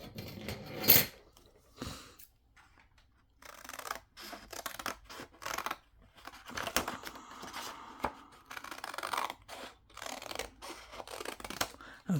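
Scissors snip through tissue paper for a 9x6 journal cover in a few short, crisp cuts with pauses between, close and fairly quiet, followed by soft paper rustling and handling.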